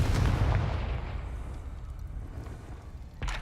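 A Confringo fire spell explodes in the video game Hogwarts Legacy with a loud, deep blast that rumbles and slowly fades, and a second sharp burst strikes at the very end.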